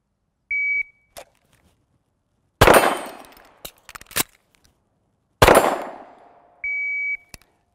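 An electronic shot timer beep, a sharp pistol shot with a metallic ring from a struck steel plate, a second shot and ring, then a closing beep.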